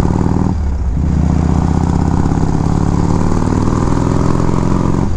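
A 1979 Harley-Davidson FLH Shovelhead motorcycle idles steadily close by, its low, lumpy V-twin rumble continuous and loud throughout, with a brief dip in tone near the start and no talking.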